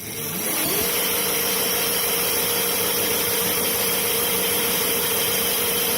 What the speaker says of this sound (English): Hey Drew, run the throttle here.